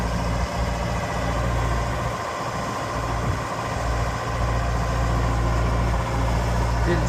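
A 2006 Genie GTH844 telehandler idles steadily while tilting, its diesel engine giving a constant low rumble from close range with no voices over it.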